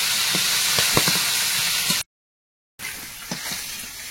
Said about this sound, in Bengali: মাছগুলো সব লাল লাল করে ভেজে উঠিয়ে নিচ্ছি, একদম কড়া করে ভেজে।